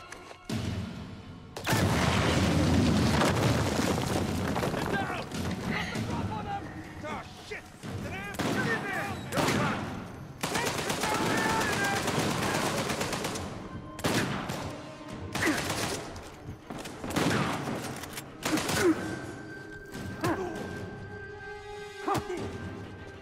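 An explosion followed by bursts of gunfire and heavy combat noise in the video game Uncharted 4, loud and dense, with shouted voices and a barking dog amid the shooting.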